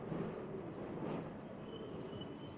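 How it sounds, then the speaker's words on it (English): An elevated train in Brooklyn rumbles steadily overhead with a broad rushing roar and a faint high squeal of wheels, loud and continuous without any voices. "this train's going to come overhead, so I'll let you hear it"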